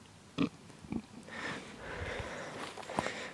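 Pigs rousing on a farm on a cool morning, with two short snuffling grunts close by, then soft rustling and shuffling in dirt and a final low grunt.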